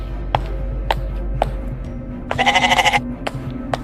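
A goat gives one loud, wavering bleat at close range, set among a few sharp knocks and clicks over a steady low hum.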